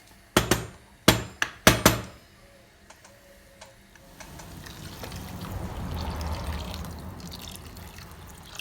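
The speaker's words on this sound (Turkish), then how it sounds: "Üzerine bir parmak geçecek kadar ılık suyumuzu koyuyorum." Warm water poured into a pot over soaked bulgur and tomatoes. A few sharp knocks and clicks come first, then a soft, swelling gush of pouring builds and carries on to the end.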